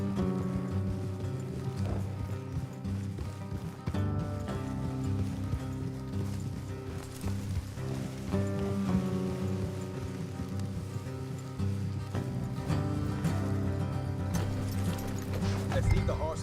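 Horse hooves clip-clop in a Red Dead Redemption 2 ride, a steady rhythmic gait under dense music and mechanical game sounds, with occasional whinnies and no speech over it.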